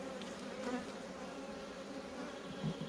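A dense, steady buzz of many honeybees rises from an open hive on a hot day, close and constant, with a few individual bees droning louder as they pass near.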